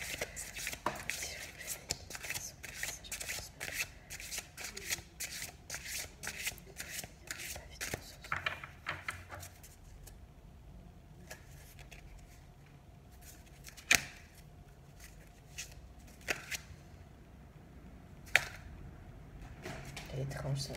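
Cards for a card reading shuffled with dense, rapid riffling at close range, then sparser individual snaps and flicks, with quiet talking underneath throughout.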